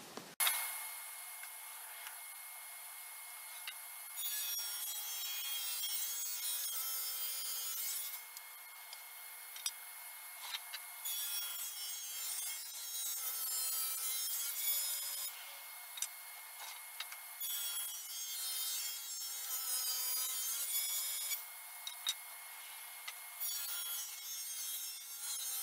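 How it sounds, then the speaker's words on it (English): A hand saw cutting a practice tenon in wood, a steady rasping scrape that pulses with each stroke, close and continuous, with no talk. "I think I'm going to cut a practice tenon so I know the exact size mortises"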